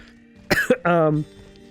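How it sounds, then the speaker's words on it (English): A single hoarse cough burst followed by a longer, voiced throat-clearing sound, close and fairly loud against a quiet background. "Sorry, I'm coughing here."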